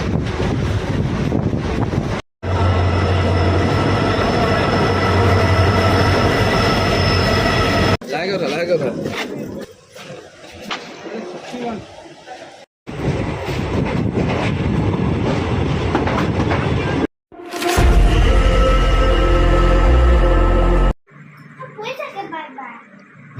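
Passenger train running on rails toward Barpeta in Assam, a loud continuous rumble with clickety-clack and heavy wind buffeting the microphone, cut into several segments with brief gaps.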